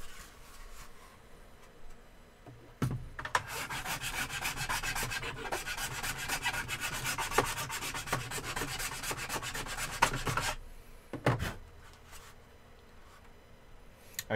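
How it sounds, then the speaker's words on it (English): Wood being shaped by hand with files, a steady, close rasping scrape that runs for several seconds, then stops, followed by a few short separate strokes. "I'm going to do it with hand files"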